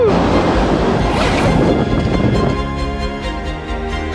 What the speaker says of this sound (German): Weil so eine Welle kann schon richtig Bums haben.